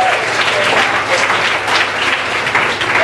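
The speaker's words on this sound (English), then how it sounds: "Let's give our labelers a round of applause." An audience claps enthusiastically, a dense, steady round of applause that continues throughout without pause.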